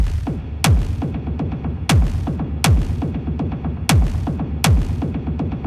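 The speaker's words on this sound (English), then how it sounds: "feeding that delay into yet another delay to get this sort of techno rumble style effect" Deep kick drum hits repeat in a steady pattern, each trailed by a dense, echoing low rumble that smears between beats like a techno delay.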